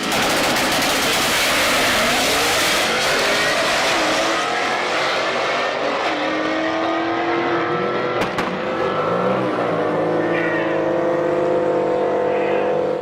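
A stick-shift GM Camaro drag car roars hard as it accelerates, its engine pitch climbing through a gear change. The loud, close howl fades as the car pulls away down the strip.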